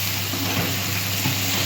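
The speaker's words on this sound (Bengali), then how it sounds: "কম আছে মানে লো ফ্লেমে আমি এটা একটু কষিয়ে নিচ্ছি" Spices, turmeric, chilli, cumin and ginger paste fry gently in oil over a low flame for a vegetarian ghugni, giving a steady soft sizzle that runs throughout with no voices.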